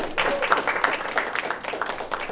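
Audience applause with some cheering for Brother Chico at a Christian club segment contest, a fairly dense crowd clapping that rises and falls over a couple of seconds, with voices mixed into the noise.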